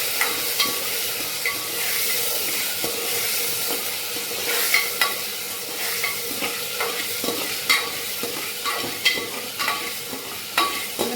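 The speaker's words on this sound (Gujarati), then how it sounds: "સરસ રીતે વઘાર આવે મિક્સ કરી લઈશું બટેકામાં।" Washed, cut potatoes stirred into a hot tempering of cumin and asafoetida for a Gujarati potato dish, with a constant bright sizzle and repeated scraping stirs of the spoon against the pan, close and without voices.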